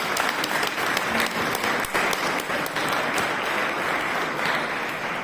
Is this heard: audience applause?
yes